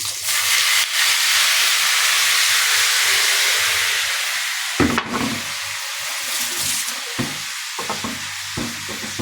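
Hot food poured into a pan lets out a loud, steady hissing sizzle with rising steam, then breaks into sharper crackles and pops as it settles, up close.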